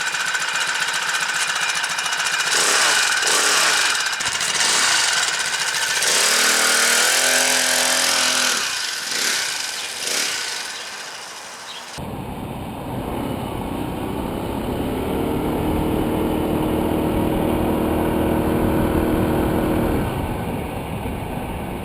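A small engine on a homemade amphibious motorized surfbike runs steadily after starting, a loud buzzing drone that shifts tone midway and holds on continuously with no talk.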